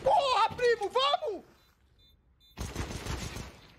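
Gunfire from a Counter-Strike CS:GO match between Imperial and Cloud9, a dense burst of shots arriving after excited shouting from a voice, loud and close, following a short quiet gap.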